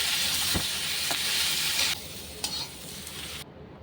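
Drumstick stalks frying in a pan with mustard for a potato curry make a loud, close sizzle broken by several sharp scraping stirs, then the hiss drops and cuts off abruptly, no voices.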